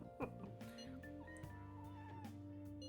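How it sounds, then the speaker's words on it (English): A weak, pitiful cat meow from the Persona 5 Royal video game, sitting faintly in the background beneath steady game music and tones. "Pepper, world's most pathetic cat noise faintly in the background."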